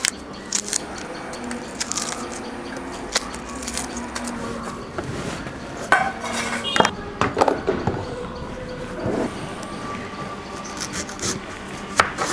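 Large onions being cut with a knife for red chilli chutney, soft irregular chopping and rubbing sounds on a board, fairly quiet and close with scattered sharper taps.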